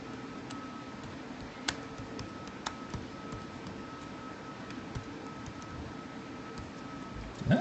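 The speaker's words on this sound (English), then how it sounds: "It's hard typing with one hand." Slow typing with one hand on a computer keyboard, faint scattered key taps and clicks with long gaps between them over a quiet room background.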